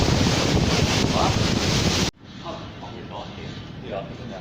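Strong wind buffets the microphone on a cruise ship deck over a choppy sea, a loud rushing roar that cuts off abruptly to a softer wash of wind and water with faint voices.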